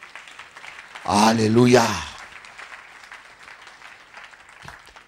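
A church congregation breaks into a short burst of clapping and cheering, loud and close, lasting under a second before it fades back to a low murmur. A voice calls out over it.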